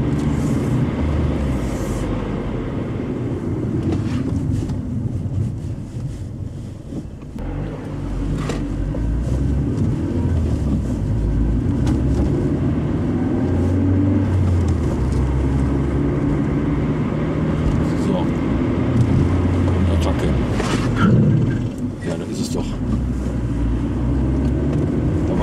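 A VW Golf 3 convertible with an ABS fault drives along, its engine and road rumble forming a steady, loud low drone throughout with only a brief dip in level, and no talk over it.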